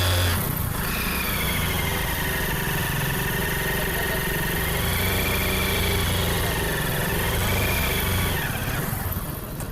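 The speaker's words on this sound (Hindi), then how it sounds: "तो अब देखिए हम इसको गियर में डालेंगे और जब बाइक को थोड़ा आगे चलाएंगे तो यहाँ से एक साउंड आएगी" A Hero Splendor motorcycle with a worn clutch plate running in gear while riding, a steady close engine drone with a faint whining, wavering tone riding over it throughout, no talking.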